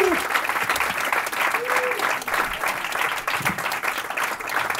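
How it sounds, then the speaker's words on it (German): Audience applause for a comedian walking onto the stage at a German comedy night, steady dense clapping filling the whole stretch at close, even loudness. "Bitte klatschen auf die Bühne"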